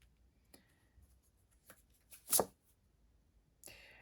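Soft riffling of tarot cards being shuffled, with a brief flurry in the middle and scattered light taps and clicks around it, recorded close up in a quiet room.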